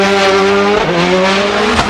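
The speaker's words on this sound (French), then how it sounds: "attention, énorme crash là pour Konrad Rottenbach" Konrad Rottenbach's Citroën Xsara rally car, prepared by PH Sport, crashes during stage 19 of the 2008 Rallye Monte-Carlo. Loud tire squeal and skidding sweep over a roaring engine, with a jolting impact near the end.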